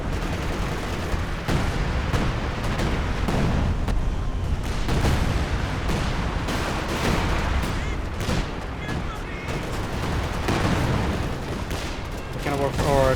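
Assault Artillery barrage in Company of Heroes 2, with repeated booming impacts and crackling gunfire layered densely over several seconds, heard beneath a commentator's speech.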